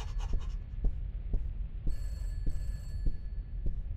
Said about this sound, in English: Oh, we're at the end and the phone's ringing